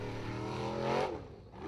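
A Formula Offroad buggy engine roars on a hill climb in Iceland, a loud sustained revving drone that rises in pitch and then drops away as it moves off.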